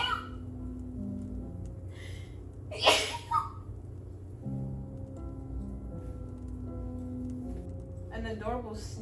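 A single quick, light sneeze from a woman while cooking, sharp and close, with steady background hum and brief talk around it.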